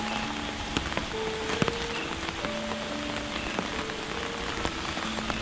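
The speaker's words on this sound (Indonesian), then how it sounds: "dan kondisi hujan jadi jalanan agak licin ya pemirsa, jadi harus berhati-hati" Rain falls at night on a path, a dense, even hiss of drops with scattered sharper taps, steady throughout and unaccompanied by voices.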